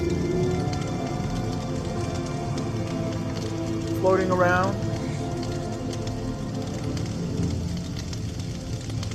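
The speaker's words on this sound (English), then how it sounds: "Yeah, it's rain." A synthesized rain effect plays in a live Csound jam, a steady dense hiss and patter sustained throughout, with a brief voice passing over it midway.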